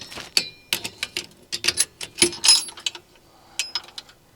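A metal wrench handled while fitting a 1-1/4 inch hitch to a 2008 Polaris RZR 800, a close run of sharp clicks, clinks and ratcheting taps in quick irregular bursts with brief pauses.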